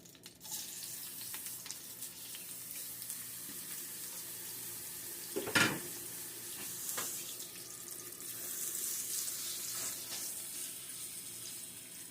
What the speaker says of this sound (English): I'm gonna just sizzle this on in here.